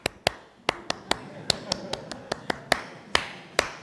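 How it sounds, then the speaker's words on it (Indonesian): A Pramuka scout clapping pattern, about fourteen crisp, sharp hand claps in an uneven rhythm with short pauses between groups, close and clear over faint room murmur. "Tepuk pramuka itu namanya"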